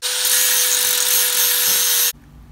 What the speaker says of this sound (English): So now I'm just grinding the edges of this and then getting it real smooth so I can slide the pipe in.